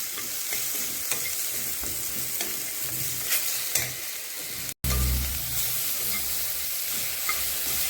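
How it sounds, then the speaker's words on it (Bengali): Potato, tomato, coriander and cumin powder fry in a pan, a steady close sizzle with scraping and stirring, briefly interrupted by a gap before the frying resumes more loudly. "এখন এগুলো ভালো করে ভেজে নেব।"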